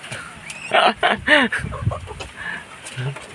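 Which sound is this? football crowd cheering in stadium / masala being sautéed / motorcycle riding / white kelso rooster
white kelso rooster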